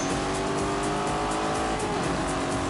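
Cars racing on a specially designed track, including a Lamborghini with a 4-litre V8, make a loud, sustained engine roar with tires squealing and no voices.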